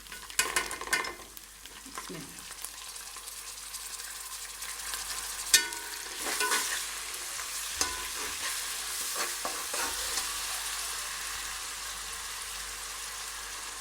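Browned chillies sizzle in a pan as tomato paste goes in for aloo matar, bringing a sharp wet splatter. Loud steady frying and stirring follow, close up with no talk.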